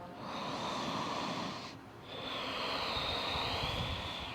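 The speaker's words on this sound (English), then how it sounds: "starting this Ujjayi breath of in and out of the nose" Slow, audible ujjayi breaths drawn in and out through the nose during yoga, with a soft ocean-like rasp, one long inhale then a long exhale after a brief pause.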